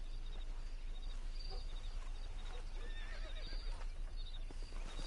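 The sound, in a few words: horses neighing in video game Red Dead Redemption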